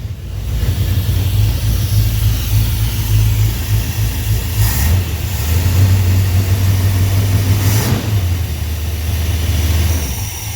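A 1966 Dodge Monaco 500 with a 440 V8 idles after starting, a loud, close, steady low rumble with a slight lope and small shifts in pitch throughout, with no talking.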